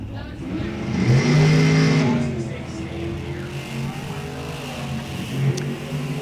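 A Monza and a 1957 Corvette Roadster launch in an NHRA drag race, engines revving and then roaring away together, moderately loud with some crowd and PA noise.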